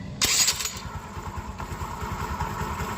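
A motorcycle engine, just repaired with a new clutch belt, gives a sharp high rev that quickly settles into a steady, throbbing idle, heard close up.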